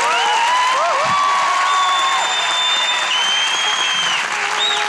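A studio audience at a Turkish relationship-test show breaks into loud, continuous applause, with whoops and cheers rising over the clapping throughout.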